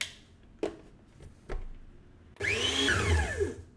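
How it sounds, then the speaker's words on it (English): A food processor pulsing sugar and lemon zest: two short taps, then a loud whirring burst of the blade spinning up near the end. "pulse together the sugar and lemon zest until zest is finely grated"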